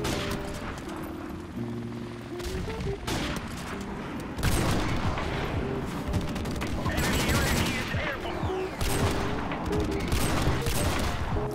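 Rapid automatic gunfire from a silenced gold P90 in Call of Duty Modern Warfare Remastered, loud bursts of shots layered with heavy explosions and a droning helicopter in a chaotic firefight.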